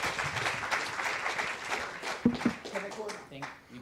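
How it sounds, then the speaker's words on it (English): Symposium audience in an accounting sciences event hall claps for a speaker, a moderate patter of hands that fades as voices start talking near the end. "A round of applause for our speaker."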